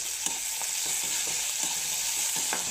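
Green chillies and grated ginger sizzling in hot oil in a pan, a steady bright hiss with faint stirring scrapes now and then, close and continuous.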